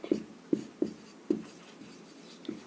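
Chalk taps and scratches on a board in a series of short, distinct strokes, about six in quick irregular succession, close and fairly quiet.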